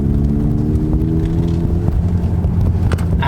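A Ford Fiesta ST fitted with a TTV Stage 4 clutch and flywheel pulls away under light acceleration, its engine a steady, close, loud drone with a rising harmonic hum and no voices.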